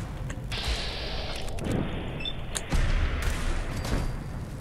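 Rapid gunfire and booming impacts from a shooter video game firefight against synths, with dense bursts of shots and a louder blast partway through, heard alone at moderate loudness.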